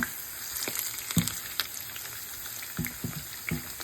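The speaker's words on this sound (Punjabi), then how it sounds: "ਇਧਰ ਕਰੇਲੇ ਵੀ ਜੋਰਾਂ ਸ਼ੋਰਾਂ ਤੇ ਫਰਾਈ ਹੋ ਰਹੇ ਆ" Stuffed bitter gourds (karela) fry vigorously in a pan, a bright continuous sizzle punctuated by scattered pops and crackles, close up and without speech.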